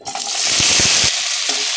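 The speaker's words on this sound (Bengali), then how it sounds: "এরপর ওই তেলটাতেই এক এক করে সব কিছু ভেজে নিতে হবে।" Vegetables for sukto frying in oil, a loud, dense hiss up close with quick spatula scrapes and taps against the pan.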